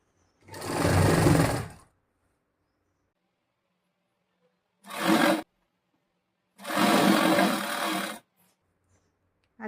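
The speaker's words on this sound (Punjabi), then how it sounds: "ਫਿਰ ਸਲਾਈ ਕਰਨੀ ਸ਼ੁਰੂ ਕਰਾਂਗੇ" A sewing machine stitches the belt of a farshi salwar in three close, loud bursts of fast whirring, with near silence between runs.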